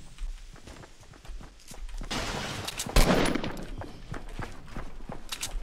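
Gunfire in a first-person shooter game, with a loud, close burst of shots around the middle standing out above a busy layer of in-game noise and scattered sharp reports.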